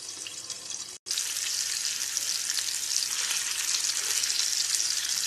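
A large whole hilsa fish fries in oil under a lid, making a loud, even sizzle that holds steady after a brief break near the start.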